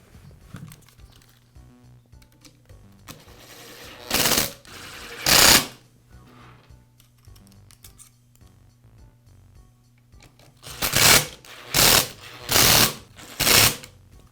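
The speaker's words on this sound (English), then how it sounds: "I'll start with those two screws into the metal." A power screwdriver drives screws into the metal housing of a Porter Cable belt sander during repair, making loud, close bursts of whirring motor noise in two short runs, then four, with quiet pauses between them.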